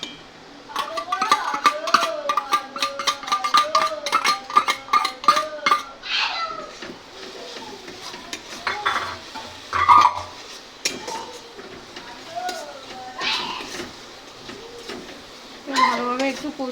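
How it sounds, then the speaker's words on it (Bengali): Chicken is stir-fried with spices in a pan with repeated metallic clinks and scrapes of a utensil against it, while pigeons coo nearby and a person speaks in between. "কষিয়ে নেব।"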